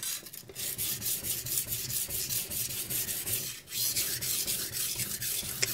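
Knife blade stroked back and forth on a soft Chinese 240-grit whetstone, a rapid run of gritty rasping scrapes in an even rhythm with a brief pause partway, close and alone.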